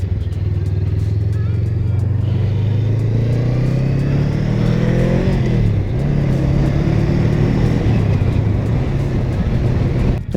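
A motorcycle engine drones steadily while riding, a loud low rumble that rises and shifts in pitch midway as the bike accelerates, heard close with wind noise and no clear talk.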